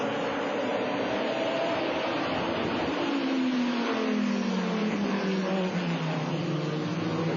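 A GT race car engine at Watkins Glen during a 1999 FIA GT round, droning steadily and loudly as one car's pitch slides downward while it passes close, with continuous engine noise from other cars underneath and no talk.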